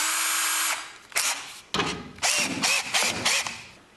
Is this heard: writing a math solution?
no